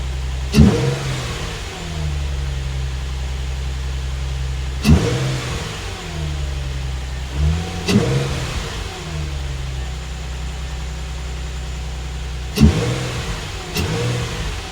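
A Nissan 350Z engine with the stock intake idles with a steady low rumble, then revs up sharply four or five times, each rev climbing and falling back, close by.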